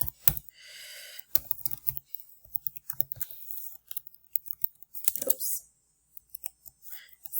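Crisp clicks from a computer keyboard as a line of code is typed, arriving in short irregular bursts with brief pauses, close and fairly quiet.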